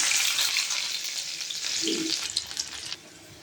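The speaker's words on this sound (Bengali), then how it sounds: "তেলটা গরম হয়ে গেলে আমি অল্প পরিমাণে বেরেস্তাটা ভেজে নেব" Sliced onions for beresta fry in hot oil in a wok, a close, steady hiss and crackle of sizzling that eases toward the end after a few sharper pops.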